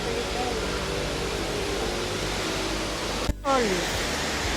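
Broad, steady rushing roar of the Cavaterra waterfalls near Calcata, continuous and fairly loud, briefly interrupted by a short dropout before resuming.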